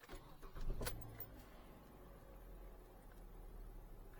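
A 2011–2016 Hyundai Elantra with a P0302 misfire fault is started; a brief cranking burst catches into a low, steady idle hum that continues quietly to the end.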